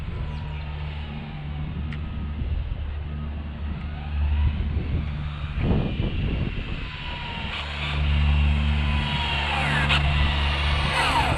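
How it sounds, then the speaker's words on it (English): A road car approaches and drives past on a street where an Arrma Infraction RC car is being tuned for speed runs, a low broad engine and tire rumble swelling to a peak and fading, heard alone without talk. "Got a car coming."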